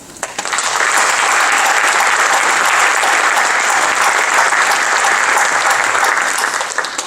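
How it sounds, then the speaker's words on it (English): Audience at a TVA board meeting breaks into a round of applause that swells within a second and holds loud and steady, a dense wash of many hands clapping that eases slightly at the very end. "So maybe a little round of applause for that."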